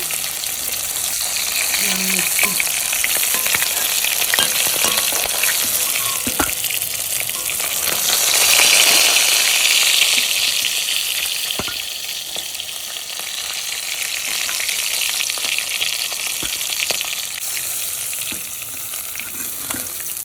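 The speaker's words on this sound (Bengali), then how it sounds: "গ্যাসের সিলিন্ডারের বসে মাছ ভাজছি" Fish fries in a pan over a gas cylinder burner, a steady loud sizzle and crackle that runs throughout, swelling briefly midway, with occasional clinks of stirring.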